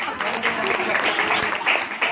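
Applause from a church audience welcoming guests at a New Year program, a dense sustained round of clapping from a crowd, fairly loud and continuous throughout.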